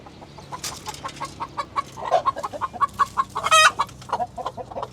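Chickens cluck repeatedly nearby in short, uneven bursts, several birds overlapping, with one louder squawking flurry near the end.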